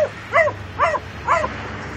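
A dog left in a car on a hot day whimpers three times in short, high-pitched whines, evenly spaced and close by, with a low hum in the background.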